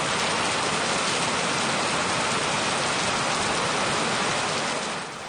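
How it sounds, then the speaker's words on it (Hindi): Torrential rain lashes down during a storm with strong winds in Guatemala, a dense, loud, unbroken roar of water close by, with no voices. "जहां तेज हवाओं के साथ प्रलयकारी बारिश हो रही है।"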